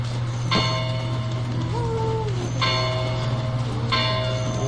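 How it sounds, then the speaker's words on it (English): Bells ring in the video game Black Desert: three clear, resonant strikes spaced about a second and a half apart, each fading over a constant low hum. "I hear bells."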